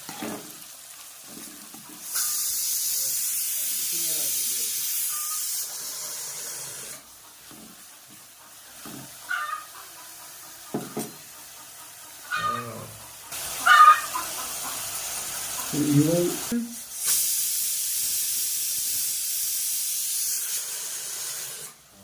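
Sliced onions sautéing in hot oil for Tamil-style beef sukka, a steady close sizzle broken by bursts of spoon-stirring scrapes and clatter, no one talking.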